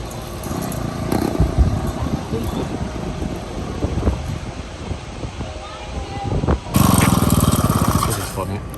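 A barn-find motorized bike's small engine runs loud and rough with a rattling drone and wind buffeting, then surges sharply louder near the end.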